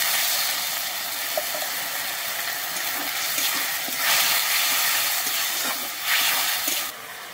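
Water poured into a hot pan of cooked-down tomato masala for a Bengali beetroot and carrot curry, producing a steady close sizzle and hiss with occasional stirring clatters that swell and fade.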